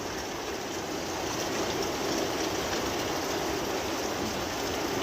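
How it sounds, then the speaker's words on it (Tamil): Steady morning rain falling in Karamadai, a dense, even hiss that stays loud and unbroken throughout, with no voices over it. "காலம் காத்தால் இப்படி மழை வந்தா"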